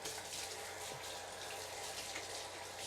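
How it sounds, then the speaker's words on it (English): Tap water runs steadily into a kitchen sink as hands are rinsed during cooking, a continuous broadband hiss that stays even and fairly close with no talking. "I'll get a little wash on my hands."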